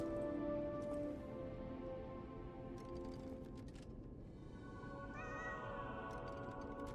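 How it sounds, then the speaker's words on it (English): A cat meows faintly in the Lies of P video game, one short, quiet mew rising late in the clip over a steady low hum of background game ambience. "Oh, the cat must be up there somewhere."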